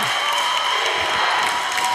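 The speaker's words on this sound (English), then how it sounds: "Deafening crowd noise here for the Braves at Seaside" Loud, continuous crowd roar from Banks Braves fans at a boys high school basketball game at Seaside, a dense wall of cheering and clapping that stays steady throughout.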